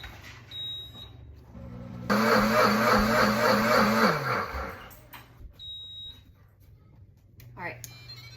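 A Pampered Chef Deluxe Cooking Blender on its heated wash setting, with dish soap and water, gives a short electronic beep, then a loud whirring motor burst for a couple of seconds. It winds down, followed by another beep and quiet.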